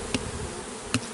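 Honeybees drone steadily around hive frames shaken out during a hive inspection, a dense close buzz marked by two brief sharp knocks.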